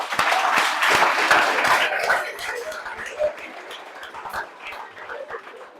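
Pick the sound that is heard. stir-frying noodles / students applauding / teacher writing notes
students applauding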